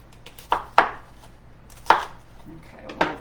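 A sharp knife chops through a small yellow onion on a cutting board, giving four crisp, distinct thuds at uneven intervals over a low steady background hum.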